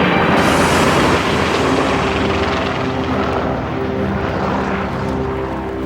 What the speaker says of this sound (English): The Spitfire is too beautiful to be a fighting machine.